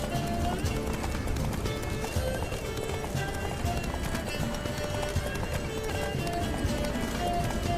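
Horse galloping in The Witcher 3, steady hoofbeats running continuously under a dense game score, with a voice speaking over the ride.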